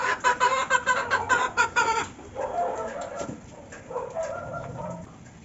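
Barred Rock and Rhode Island Red chickens feeding in a backyard, a lively run of rapid clucks up close at first, then softer, scattered clucking and murmuring from the flock.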